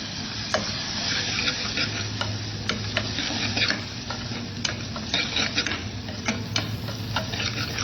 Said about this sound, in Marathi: छान असं परतून घ्यायचं म्हणजे तेलामध्ये छान मसाले आपले परतले जातात कांदा आणि टोमॅटोसोबतच हरभऱ्याची डाळ